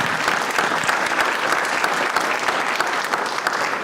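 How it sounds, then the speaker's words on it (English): People at a board of education meeting give a quick round of steady, full applause that fills the room evenly for about four seconds, with no talking over it. "So quick round of applause for Deb, even though she's not here this eve"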